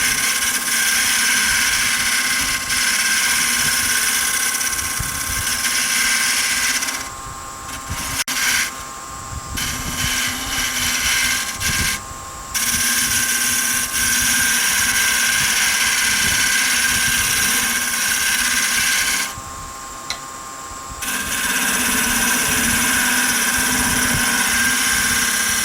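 Wooden spinning top being turned down and tapered on a spinning wood lathe, giving a loud, continuous whirring hiss of the cutting tool with several brief breaks where the cut pauses.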